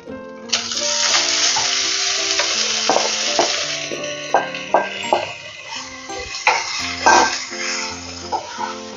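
Drumstick greens dropped into a hot pan with ginger paste and a green chilli, frying with a steady sizzle while utensil clatter and tonal clinks ring out repeatedly.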